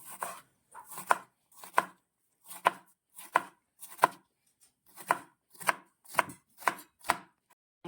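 A knife chops through an onion on a board in a steady series of about a dozen sharp, close thumps, grouped in quick runs with short pauses, with no talking.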